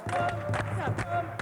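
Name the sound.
audience clapping hands along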